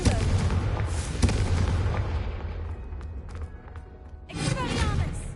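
A Confringo spell blast in Hogwarts Legacy: a loud booming explosion at the start that fades into rumbling debris, then a second bright burst near the end, with no speech over it.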